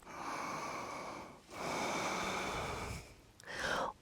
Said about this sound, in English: Last 2 breaths.